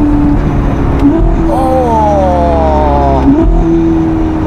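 A Ferrari SF90 Spider with a Novitec exhaust, 1109 hp, revving loudly up and down with a rising whine over a droning engine note, up close, with a brief voice at the end.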